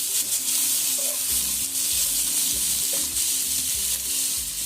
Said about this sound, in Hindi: गोभी भी शामिल कर दी है, तो इसको हम अच्छे से मिक्स कर रहे हैं।